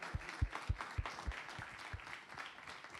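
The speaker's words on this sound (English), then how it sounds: "A round of applause." Audience at a food and data conference applauding, a brief burst of fairly faint clapping that thins out over a few seconds.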